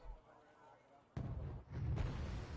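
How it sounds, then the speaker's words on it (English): Artillery strikes land in the strategy game Wargame: Red Dragon, with two muffled booming bursts in quick succession after a quiet lull, fairly faint overall. "Artillery right on top of the forest."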